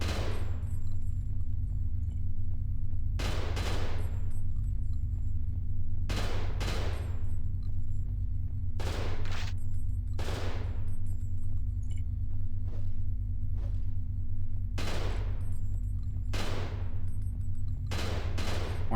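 Sharp gunshots ring out one at a time at irregular intervals over a steady low engine-like hum in the video game Cold Fear, each shot loud and close with a brief decaying tail.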